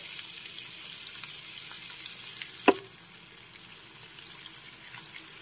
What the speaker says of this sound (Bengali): তেল গরম হয়ে গেছে, এবার হালকা করে মাছগুলো ভেজে নিতে হবে।